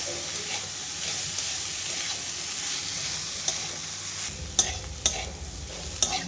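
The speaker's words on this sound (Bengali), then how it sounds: "পেঁয়াজ আর করলা দুটোই সুন্দরভাবে লাল লাল হয়ে ভাজা হয়ে যায়" Bitter gourd and onion fry together in hot oil, a continuous close sizzle that later carries several sharp clicks and knocks of a spatula stirring the pan.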